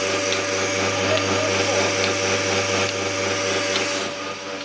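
The milking machine pump runs steadily and loudly during milking of Jersey cows, a constant droning hum with a pulsing rhythm, close by with no speech.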